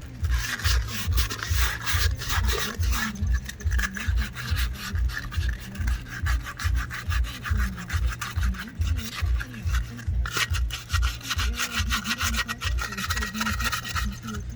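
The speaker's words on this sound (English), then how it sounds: "I'm just going to go ahead and sand the rest of it." Sandpaper rubbing surface rust off a steel rim from a 1980 Jeep CJ7, a steady rhythmic back-and-forth scrape repeating about twice a second, close and continuous with no talking.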